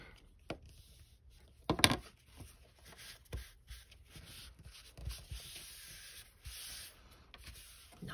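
Folded paper for a card game book is burnished with soft, faint rubbing strokes, close up, punctuated by a few light taps and a louder scrape in a quiet room.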